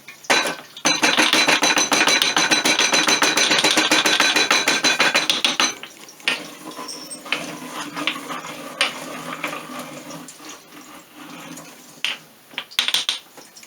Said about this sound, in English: Goes in the mortar and pestle.